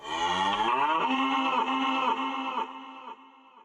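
A cow gives one long, loud, close moo that starts low, swells into a rich harmonic bellow and slowly tapers off, heard alone.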